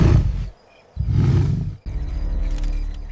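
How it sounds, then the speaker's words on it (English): A lion gives deep, rumbling roars at night in the African wild, two close, loud low bursts separated by a short pause, followed by a rougher trailing rumble with no talking. "A low roar reminds every rival who rules here."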